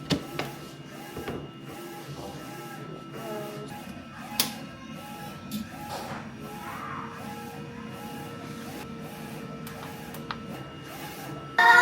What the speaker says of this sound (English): See how much my printer is shaking? Like out of control.